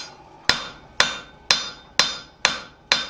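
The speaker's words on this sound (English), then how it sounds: "You want to forge out the drift" A hammer forges a small steel mortice drift on an anvil. Six loud, ringing blows land at an even, unhurried pace, close and alone with no voices.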